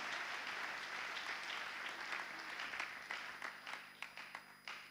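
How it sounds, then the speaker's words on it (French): A church congregation applauds during a sermon: dense, sustained clapping from a crowd that thins out toward the end into separate, distinct claps. "J'aimerais qu'on l'acclame très fort."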